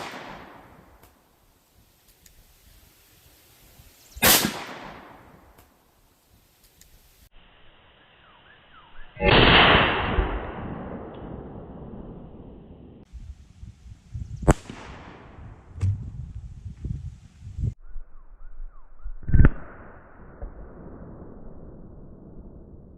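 Several loud .38 Special revolver shots fired into watermelons outdoors, each a sharp crack with a decaying tail, spaced a few seconds apart with quieter handling noise between.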